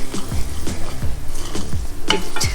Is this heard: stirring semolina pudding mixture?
yes